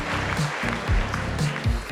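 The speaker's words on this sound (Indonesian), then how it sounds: "Tepuk tangan untuk Anda semua." An audience at a university talk in Indonesia applauds, a dense wash of clapping that runs the whole time beneath a loud voice with pitched, sliding tones.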